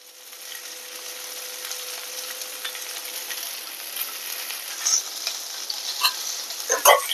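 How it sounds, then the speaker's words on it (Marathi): Turmeric and coriander powder are stir-fried in a pan, a steady close sizzle that builds over several seconds, with scraping stirs and small clinks toward the end, no talking. "आणि चांगलं परतवायचं."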